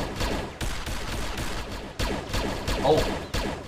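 Musket volley fire in the video game Mount & Blade Warband: a rapid, ragged series of loud overlapping gunshots, with fresh bursts of volley fire cracking out about every half second to second, heard up close and without clear talk.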